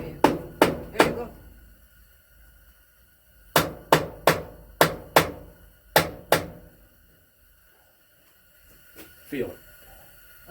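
Close, loud hammering during a home DIY table saw build: a quick burst of three strikes, a pause, then a run of six evenly spaced blows, with people talking quietly near the end.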